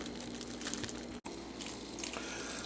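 Water gushes steadily from a tap into a pot of vegetable scraps for stock, a continuous splashing fill with one brief pause midway.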